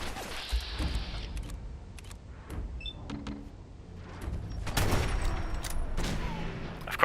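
Rapid bursts of video game gunfire crackle alongside mechanical clanks and creaks, loud and close, with several sharp shots clustered near the end.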